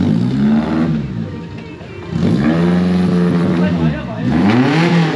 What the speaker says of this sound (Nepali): स्कुटर छ हौ त्यहाँ